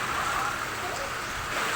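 Heavy rain pours down steadily during street flooding, a dense, constant hiss and patter that stays loud and even throughout.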